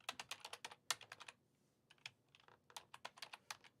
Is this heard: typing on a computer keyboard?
yes